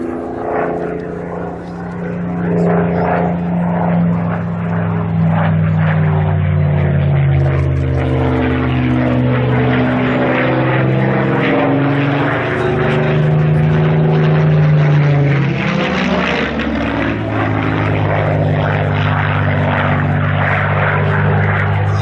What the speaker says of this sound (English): Just relax and enjoy the flying display, the sight and the sound of the Spitfire.